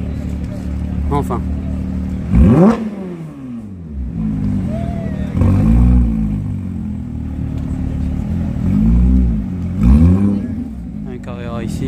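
An Alpine sports car arrives at a Gumball 3000 rally gathering, its engine revving in loud surges over a steady rumble of passing vehicles, with people talking nearby.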